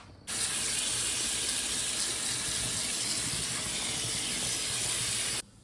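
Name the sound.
cold tap water poured over drained cooked rice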